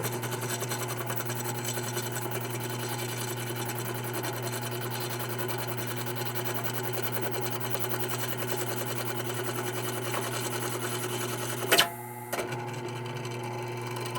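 A Mibro circle cutter bores into a bar of 6061 aluminum with a steady, loud machine drone and a tonal hum throughout, broken by a brief sharp spike near the end as the cut shifts.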